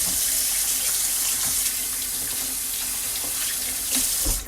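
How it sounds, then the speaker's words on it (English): Tap water runs steadily into a kitchen sink as hands are washed during biscuits-and-gravy cooking, a continuous close splashing hiss with no talk. "Wash my hands."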